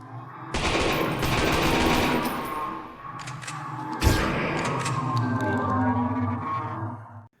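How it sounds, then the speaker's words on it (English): Gunfire in a Silent Hill video game comes as loud, rapid bursts of shots in a dense volley, with a heavy thud midway and reverberant, ominous background noise, no voices. "I panic, and I unleash my bullets into its face, which does absolutely nothing."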